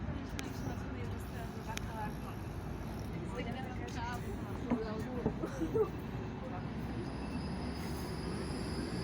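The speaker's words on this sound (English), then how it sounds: "And again, the tram." A tram rumbles past on an Old Town street in Bratislava, Slovakia, near Comenius University, its low rolling noise steady, with faint metallic squeals and distant voices mixed in.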